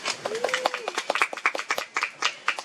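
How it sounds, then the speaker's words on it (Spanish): Scattered audience clapping at a talk during a fair. Distinct individual claps ring out unevenly and fairly close, with a voice speaking over them. "Un aplauso, por favor, para Nayib."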